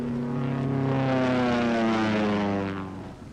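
A World War II propeller aircraft passes low and loud on a skip bombing practice run, its droning engine swelling to a peak and then fading as it moves away, with no speech.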